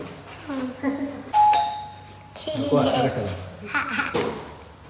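A doorbell chimes once with a clear ringing tone, surrounded by a child's chatter and laughter nearby.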